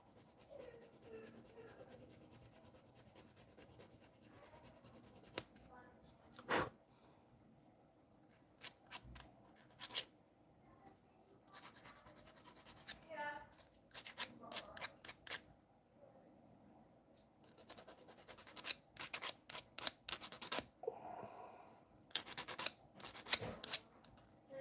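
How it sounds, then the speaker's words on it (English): Sandpaper works the arm joint of a plastic model figure in short, irregular scratchy strokes with pauses, close but quiet, with occasional sharper clicks of handling. "You want to sand till the whole thing is sanded, and that'll get you the angle"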